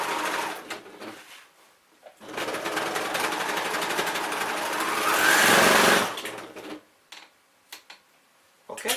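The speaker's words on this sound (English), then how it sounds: "that is our panels overlocked" An overlocker sewing machine runs in a steady, loud whirring burst for a few seconds as it overlocks denim jeans panels, with quieter handling clicks and pauses before and after.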